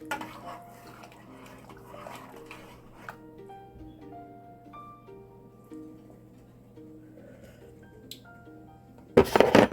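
A spoon stirs pinto beans in a pot with a few faint clinks and scrapes against the metal, under quiet kitchen background, followed by a loud clatter near the end.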